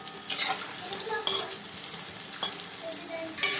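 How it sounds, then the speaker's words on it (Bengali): Rosbora dumplings frying in hot oil give a steady close crackle and sizzle, with sharper bursts of bubbling at intervals and no talking. "আমার এই রসবড়াটা ভাজা প্রায় হয়ে গেল, একটু লাল লাল করে ভেজে নেব।"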